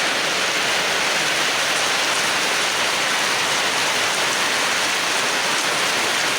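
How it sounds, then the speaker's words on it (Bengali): Heavy rain pours down on a street during a downpour, a dense, loud, unbroken hiss of falling water that stays constant throughout without any voices. "অনেক বৃষ্টি নামছে"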